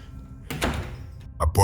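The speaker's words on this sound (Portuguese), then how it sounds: "A porta treme, como se alguém esmurrasse do outro lado." A door shakes and thuds as though pounded from the far side, heard as a few dull knocking impacts that build toward a louder burst at the end, with no talk over it.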